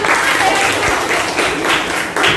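Students applaud in a classroom with a short burst of loud, dense clapping that rolls on steadily for a couple of seconds.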